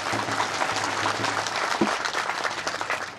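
Rally crowd in Alwar clapping hard at a BJP Parivartan Yatra event, a continuous dense patter of many hands, close and strong, with a faint hum and brief murmur inside it.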